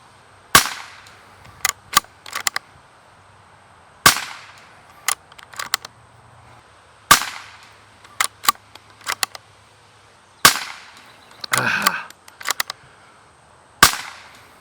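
Rimfire .22 rounds fired from Bergara steel-barrel bolt-action rifles outdoors: sharp, loud cracks spaced a few seconds apart, each followed by quick metallic clicks of the bolt being cycled, no voices.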